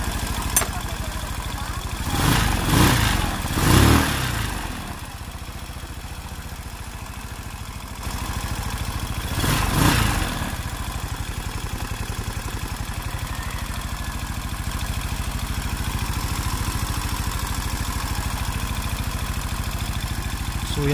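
A motorcycle engine with a freshly boiled-clean carburetor idles with a low, steady rumble and some clatter, with a few louder bursts early on and a voice speaking intermittently.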